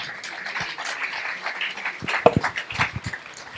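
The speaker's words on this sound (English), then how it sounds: "With a big round of applause." An audience gives a round of applause at a prenatal education talk: scattered, fairly light clapping that thickens slightly toward the end, with a few louder individual claps standing out.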